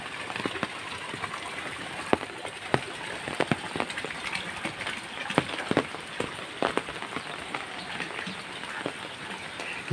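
Light evening drizzle falls outdoors near a house, a steady soft patter of raindrops with scattered sharper drips against a surface, continuous and unbroken by voices.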